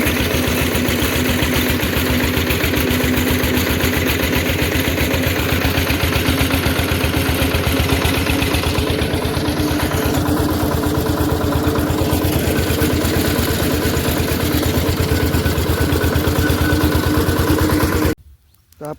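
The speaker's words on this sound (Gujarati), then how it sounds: "ટ્રેક્ટર લાવો, ટ્રેક્ટર રાખવા દો મને." A tractor engine idles steadily in a rough, continuous low rumble close by, running unchanged for most of the stretch before cutting off abruptly near the end.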